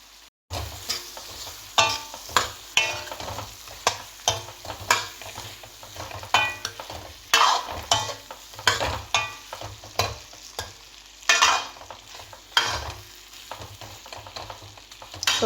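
Potatoes tossed into a spice masala in a hot pan, sizzling loudly up close while a spoon stirs and scrapes in a steady rhythm of repeated clattering strokes, with no voices.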